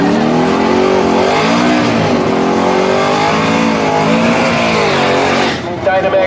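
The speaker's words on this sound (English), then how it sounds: "V6 under the hood, lighted up with car number 833 running down the Dynamax side of the track." A V6 Chevrolet Beretta race car, car number 833, roars down a drag strip, its engine pitch rising and falling through hard shifts, loud and close, with an announcer talking over it.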